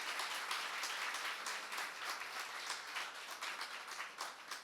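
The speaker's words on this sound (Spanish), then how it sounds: "Recibamos con un fuerte aplauso al moderador del foro," An audience at a forum on family and education applauds to welcome the moderator, a sustained, fairly faint patter of many hands clapping that carries evenly throughout.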